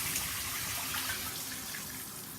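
Tap water runs steadily into a bath while a doll is rinsed, a continuous near hiss and splash with no break.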